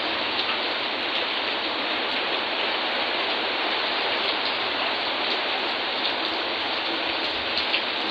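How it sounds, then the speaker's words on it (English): Heavy rain pouring outdoors during a storm, a dense, even hiss of falling drops that stays loud and steady throughout with no voices. "I'm currently washing my hair outside in the rain while it's raining and pouring."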